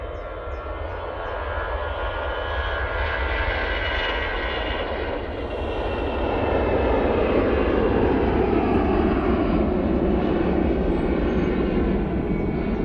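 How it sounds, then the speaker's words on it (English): An EasyJet airliner on its take-off roll at Manchester Airport in low visibility, its engine roar steady and distant at first, then building fuller and louder as it accelerates down the runway, with no talk over it. "EasyJet to Nice, now on the roll."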